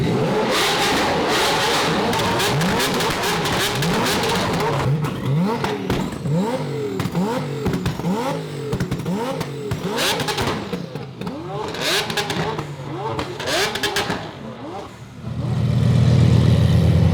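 A McLaren 765LT Stage 4+ sports car engine, tuned to about 2,000 horsepower, revs repeatedly, rising and falling in pitch through a series of loud bursts, ending in a steady low rumble.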